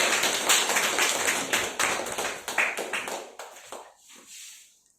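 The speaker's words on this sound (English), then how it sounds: "help me welcome the energetic SICASA speaker Sai Vishnu, the MC of 194th meet of SICASA Speakers Forum with a big round of applause" Audience applause welcoming the MC at a SICASA Speakers Forum meeting, a small room of sharp individual claps that thin out and fade to silence over the last second.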